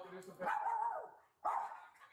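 A dog barks twice, close and loud, with short separate yelps about a second apart.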